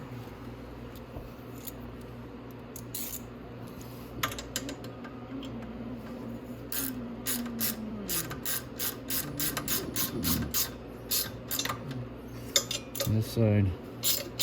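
A ratchet clicks in quick, crisp bursts while tightening exhaust nuts on a Grizzly ATV, close and fairly quiet with metallic tool handling between runs, and a brief spoken phrase.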